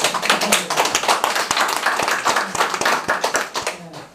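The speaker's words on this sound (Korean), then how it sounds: "박수!" Applause at a rally of the Korean patriotic struggle coalition inside a Red Cross hall, with a crowd clapping in a dense, steady burst of hand claps that runs throughout at close range.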